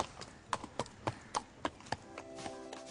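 Arabian horse hooves clip-clop in a steady walking rhythm, about seven distinct sharp strikes, fairly close, with faint background noise and no talking.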